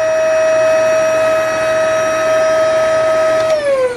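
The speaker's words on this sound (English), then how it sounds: "to run the roller on the vacuum" Vacuum cleaner with its brush roller running, powered through a 1200W inverter in a Rav4 Prime, a steady loud whining hum that drops in pitch at the end as it winds down.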